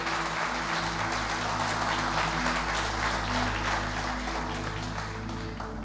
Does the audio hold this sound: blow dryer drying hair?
no